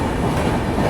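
Passenger train 12552, an AC superfast running from Assam to Bengaluru, clatters loudly and steadily along the rails in a dense, unbroken rumble heard from close by.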